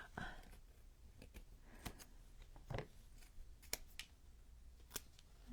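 Scissors snip through craft material for a wintertime miniature vignette with bricks and cobblestones, a few quiet, close, irregular cuts with small rustles between them, no talking.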